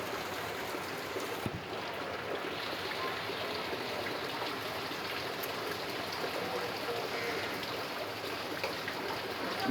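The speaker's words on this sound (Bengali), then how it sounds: "বৃষ্টির পানি সংগ্রহ করা হচ্ছে যেহেতু বাইরে একদম প্রচুর বৃষ্টি" Heavy rain falls outside while rainwater is collected, a steady dense rushing wash of water that carries on without a break, with no one speaking.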